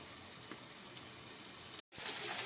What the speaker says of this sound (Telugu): తర్వాత ఫ్రై చేసుకోవాలి. టెన్ మినిట్స్ క్లోజ్ చేయాలి.